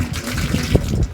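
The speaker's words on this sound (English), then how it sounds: "we'll take the overflow bottle, dump it out," Coolant water is dumped from the radiator overflow bottle of a 1978 Yanmar YM1700 tractor, a brief close splashing gush with gurgling pulses lasting about a second.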